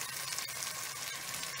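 Kofta, meatballs of finely ground mince, frying in a pan of oil, giving a steady close-up sizzle with a broad, even hiss throughout.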